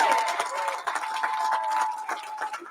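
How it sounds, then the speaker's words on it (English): A graduation ceremony crowd gives a round of applause mixed with cheering, a continuous dense clatter of many hands with a steady tone running underneath. "Can we give them a big, gigantic round of applause?"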